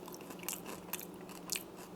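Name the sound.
biting into crunchy baked pudding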